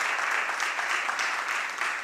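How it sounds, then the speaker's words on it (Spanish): An audience claps continuously, a dense, steady wash of many hands applauding together at moderate volume. "os pediría un aplauso para Paloma y para Patricia."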